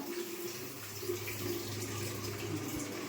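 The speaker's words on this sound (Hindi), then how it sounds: "मेरा पानी भर गया" Water runs steadily from a household tap as a container fills, making a continuous splashing rush with no pauses and no talking.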